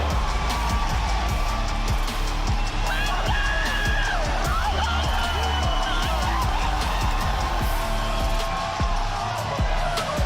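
A sold-out home crowd roars steadily at an esports grand final in an athletic center, a loud, unbroken wash of cheering beneath an excited commentator's voice.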